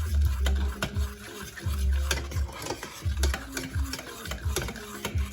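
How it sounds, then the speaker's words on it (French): Soy sauce, garlic and ginger stirred in a pan over low heat: repeated scraping strokes of a utensil against the pan in a steady rhythm over a soft sizzle, close and alone with no talk. "Et on mélange toujours à feu doux."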